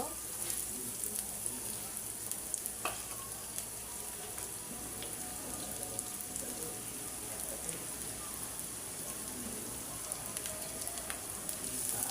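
Onion frying in a little oil in a pan for a pabda fish curry, a continuous soft crackling sizzle at low level, close and steady throughout.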